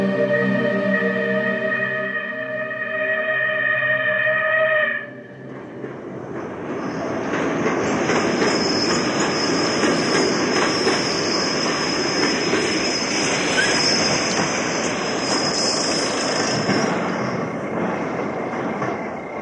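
A running train as a sound effect in a horror story about Tunnel No. 102: a short tonal musical opening gives way to a steady, dense rumble with a high metallic whine that continues for about fifteen seconds.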